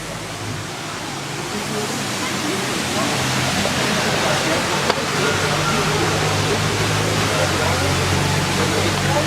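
A waterfall beside a hotel in Moustiers-Sainte-Marie, France, gives off a constant, dense rushing roar that holds steady and close throughout, with no pauses.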